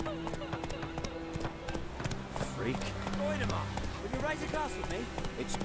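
Roach, Geralt's horse in The Witcher 3, gallops with a steady rapid clip-clop of hooves, close and continuous, while someone talks over it.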